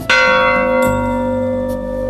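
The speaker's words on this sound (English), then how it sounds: "So for whom does this bell toll?" A single church bell strikes loudly and alone, its rich ringing tone sustaining and slowly decaying, with a second fainter stroke following.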